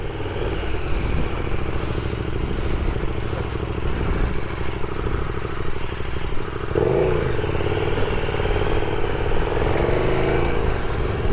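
A 2019 KTM Super Duke R is ridden through Cambridge streets, a steady loud engine drone with wind rush that shifts pitch partway through as the bike changes speed.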